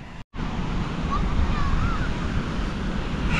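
Ocean surf rolls and washes steadily in a broad, continuous roar, mixed with wind buffeting the microphone after a brief dropout at the start.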